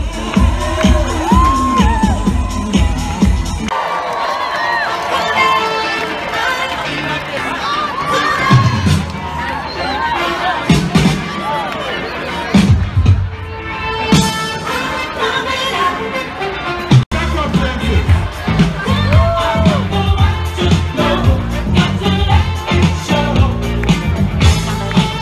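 A large crowd at an outdoor marriage equality rally in Sydney cheers, whoops and shouts loudly, with waves of applause and high-pitched yells rising and falling across the whole stretch.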